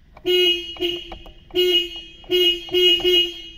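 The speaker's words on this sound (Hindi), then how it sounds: "आप अगर हॉर्न चेक करना चाहते हैं कि हॉर्न बज रहा है कि नहीं" A Hyundai Accent's car horn honks five times in short, loud bursts with brief gaps between them, close by and steady in pitch.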